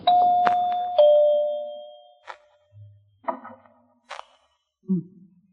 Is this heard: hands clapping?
no